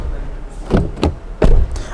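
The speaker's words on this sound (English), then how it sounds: "listen to the sound of the door" A Mercedes GLE SUV door swings shut with a few dull, solid thuds in quick succession, close by and fairly loud against faint background noise.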